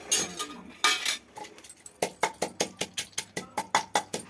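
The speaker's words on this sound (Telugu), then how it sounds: "అందులో పోపులు మిరపకాయలు, మెంతులు, ఆవాలు, జీలకర్ర ఇవి వేసుకుని ఇందులో తొక్కుకోవాలి." Pounding of dried chillies, fenugreek, mustard seeds and cumin in a mortar for a ridge gourd chutney, heard as a close series of sharp, regular knocks, slower and irregular at first, then a steady rhythm of about two strikes a second.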